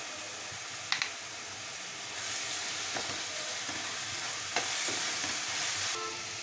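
Onion paste with green chillies, cloves and cinnamon fries in a pan for mutton curry, a steady sizzle broken by sharp clinks of a stirring spoon, no voices.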